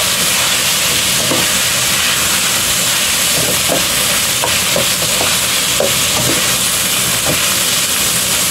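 Pork and puff tofu frying in a pan with onion and zucchini give a loud, steady sizzle and hiss, broken by occasional soft scrapes and clinks of stirring.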